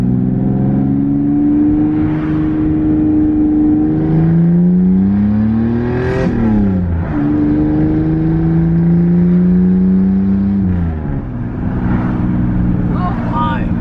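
A Toyota Supra with a straight-pipe exhaust revs repeatedly, its loud engine tone climbing and falling in several long sweeps close by, with people talking over it.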